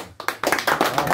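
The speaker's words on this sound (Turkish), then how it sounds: "Alkışlar." Clapping from a small group on a Turkish TV show begins after a brief pause and continues as close, irregular hand claps, with no talk over it.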